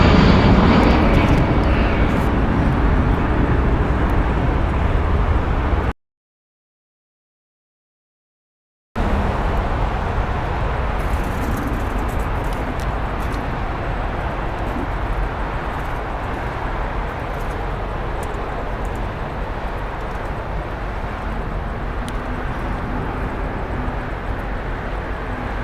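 A 21-year-old Delta Air Lines Airbus A319 departs LAX bound for Houston, its jet engines a loud, steady, broadband roar that carries on throughout, broken only by a short stretch of total silence.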